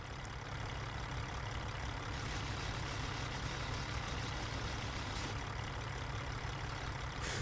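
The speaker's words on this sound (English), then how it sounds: "my car sounds like it's gonna die though if I try to back up faster than 10 miles an hour" A heavy truck engine in a video game driving simulator idles and rumbles steadily while reversing slowly in a low gear, a continuous low drone with no talk.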